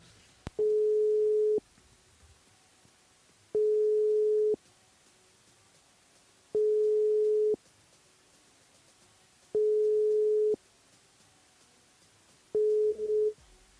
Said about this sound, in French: j'appelle Marina sur le standard